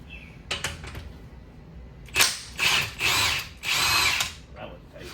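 A power tool buzzes in several loud, short bursts while loosening the pinion on an axle differential during a ring and pinion and limited slip setup, after a few faint clicks.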